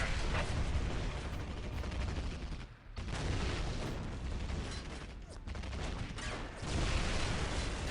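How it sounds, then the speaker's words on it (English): Thunderous cannon fire and battlefield blasts from a Vindicator Demolisher Cannon in Dawn of War: Ultimate Apocalypse, a dense, continuous barrage of heavy booms and gunfire with a brief dip near three seconds. "That Demolisher Cannon on the front of it is no joke."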